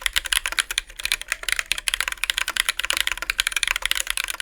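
Fast, even typing rattles on a 50% mechanical keyboard, a dense stream of crisp, close keystroke clicks with no talk.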